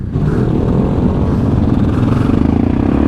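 A motorcycle engine revs as the throttle is twisted, loud and close, with a rough rising drone and a rapid rattling pulse throughout.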